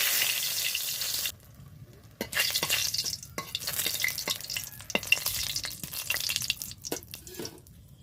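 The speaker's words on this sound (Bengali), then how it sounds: "কড়াইতে আমি তেল দিয়েছি তেল গরম হলে শুকনো লঙ্কা দিয়ে দিই" Dried red chillies hit hot oil in a wok, loud at first and then settling into steady crackling and sputtering, with sharp ticks of a spatula stirring close by.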